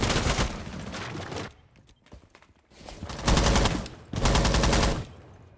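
Bursts of automatic gunfire from the shooter game Rainbow Six Siege, loud rapid volleys in three long strings separated by brief quieter gaps with faint footsteps.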